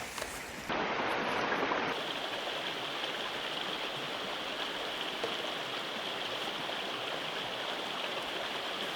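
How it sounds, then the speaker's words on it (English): Creek water in a forest spills over rocks, making a steady, close rushing hiss that carries on evenly from start to finish with no voices. "I decided to paint a little bit of the stream where the water goes over some rocks"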